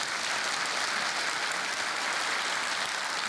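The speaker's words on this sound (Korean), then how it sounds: "박수 한번 칠까요?" Dense, continuous applause from a large church congregation fills the whole stretch at steady loudness, with no voices standing out.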